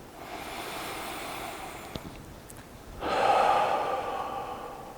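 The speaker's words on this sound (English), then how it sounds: "Take a nice deep breath." A slow, deep breath drawn in and let out close to the microphone in a quiet, calm setting, a soft airy rush that swells toward the end, with no talking.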